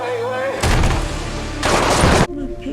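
Gunfire in a tense TV drama scene, two loud, sustained bursts of crackling blasts close by, each lasting about half a second or more, with voices and a background score around them.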